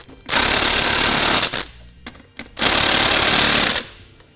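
Power impact tool tightening wheel lug nuts on a 2007 vehicle: two loud rattling bursts of about a second each, separated by brief clicks and short pauses.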